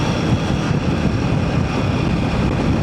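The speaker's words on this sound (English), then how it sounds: "It feels like there is no wind at all, but it's quite windy actually today." Steady broadband wind rush while riding a Himalayan 450 motorcycle on a windy day, a continuous low roar with no breaks and no speech.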